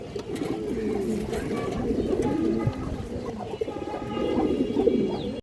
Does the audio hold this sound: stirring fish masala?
no